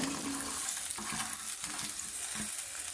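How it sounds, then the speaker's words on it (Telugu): Five sliced onions crackle and sizzle in a generous amount of hot oil for restaurant-style chicken dum biryani, a steady hiss broken by stirring clatters and soft scraping close by. "ఈ ఆనియన్స్ అన్నీ ఫ్రై అవ్వాలి కాబట్టి ఆయిల్ ఎక్కువ కావాలి"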